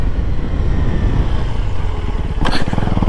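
A KTM Duke 250 motorcycle engine roars loudly up close amid wind rush, then revs sharply during a wheelie near the end with a rising throaty growl.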